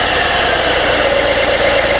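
A 2019 Harley-Davidson Fat Boy 114 motorcycle with Milwaukee-Eight engine and twin silencers idles around 1000 RPM with a low, even rumble and constant vibration, and no one speaks.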